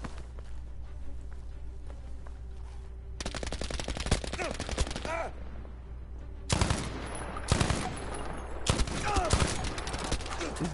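Rapid automatic gunfire in the video game Battlefield V, bursts of shots that start, stop and resume, near and loud over a low steady hum, with faint footsteps between bursts.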